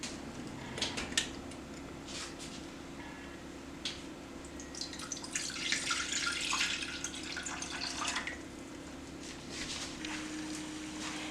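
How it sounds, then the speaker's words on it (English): Water bubbling at a boil in a pot on a home kitchen stove, ready for salt, sugar and milk to make fried mush, with a steady low rumble, splashy bubbling that swells midway, and no talking. "Okay, we have boiling water"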